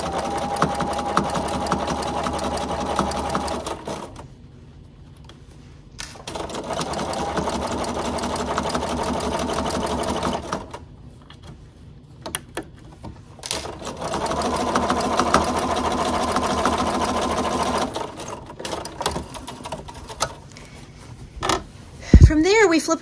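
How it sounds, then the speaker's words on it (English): A sewing machine stitches straight quilting lines, running in three steady mechanical bursts separated by short pauses as the quilt is turned, ending with a few clicks and knocks. A faint voice is present. "from there, we flip around and we're gonna sew in the opposite direction."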